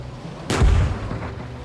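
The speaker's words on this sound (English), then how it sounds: "He's taking small arms fire." A single sharp, loud gunshot bursts out in the Gunner HEAT PC tank combat game, ringing briefly with a low booming tail before fading into the steady background rumble.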